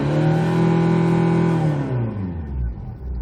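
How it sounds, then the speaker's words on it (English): A Kia Sportage engine revs high and holds, then drops away with a falling pitch as it winds down, loud and close. "And again, hear the sound of the engine."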